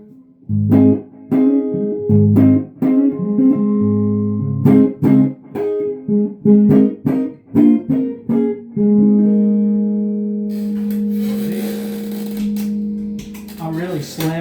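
Electric guitar on the neck pickup played clean through a Gold Lion KT77 tube amp, a series of loud plucked chords and single notes with ringing sustain, ending in a long held chord that fades into noisy hiss.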